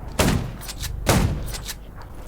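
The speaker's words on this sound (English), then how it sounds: "grab the first shotgun, and shoot a couple of zombies" Two heavy shotgun blasts about a second apart, loud and booming with a short decaying tail, fired at zombies in a zombie-survival video game, with faint game ambience between shots.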